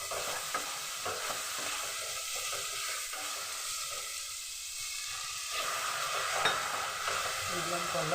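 Tomatoes fry in a pan, a continuous close hiss and sizzle that drops back briefly and then swells again toward the end, with faint stirring.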